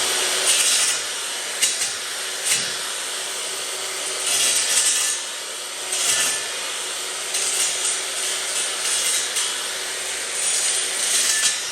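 A power saw cuts wood during house building, a loud steady rasping whine with brief dips and surges as the blade bites through the timber, with no voices.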